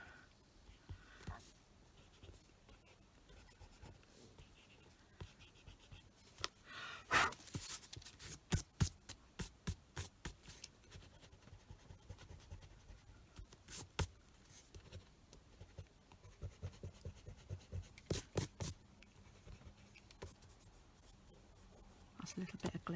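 An eraser rubs out pencil lines on a handmade card in short scratchy bursts of quick back-and-forth strokes, close and fairly quiet, with someone talking at times.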